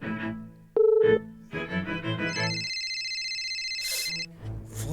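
A telephone rings in a tense domestic scene, electronic tones and chirps repeating with a brief sharp beep, sounding alone with no voices and going unanswered.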